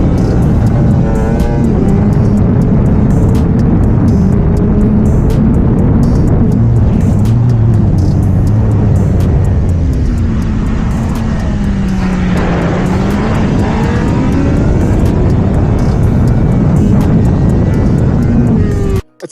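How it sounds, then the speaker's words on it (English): A 2025 Suzuki GSX-R1000A superbike is ridden at speed, its loud engine roar rising and falling through gear changes under heavy wind rush for the whole stretch. "Welcome to the brand new 2025 Suzuki GSX-R1000A. Suzuki's unapologetic superbike"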